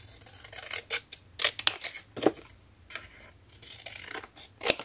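Scissors snip through a paper decoration for a safari savanna scrapbook album, a series of close, crisp cuts and rustles in irregular bursts with short pauses between.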